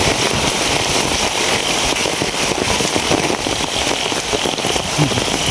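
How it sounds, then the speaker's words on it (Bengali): Heavy rain pours down steadily with gusting wind, a dense, unbroken roar close by that holds level throughout, with no voices over it. The downpour and wind come during flooding and storm conditions. "কি পরিমাণ বাতাস আর বৃষ্টি"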